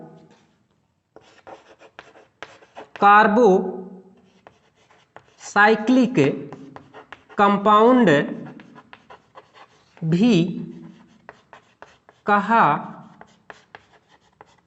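Writing strokes scratch across a board during a Hindi-language chemistry lecture on classifying organic compounds, coming in short rhythmic bursts between the teacher's spoken explanation.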